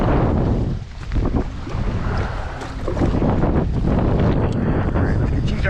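High wind buffeting a microphone on a kayak out on a Michigan lake in October, a loud continuous roar with gusting swells and faint water lapping.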